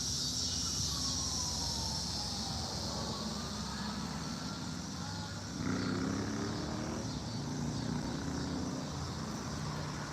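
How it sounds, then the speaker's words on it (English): A faint siren wails in the distance, its pitch slowly sliding, buried under a steady wash of traffic and engine rumble. "There's a siren."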